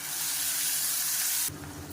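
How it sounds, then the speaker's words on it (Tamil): Curry leaves and mustard seeds fry in hot oil with a bright, steady sizzling hiss that cuts off abruptly partway through, leaving quieter crackling underneath. "கருவேப்பிலை நல்லா பொருந்திருச்சு"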